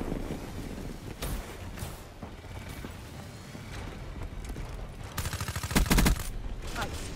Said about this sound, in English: Rapid fire on this gun is ridiculously good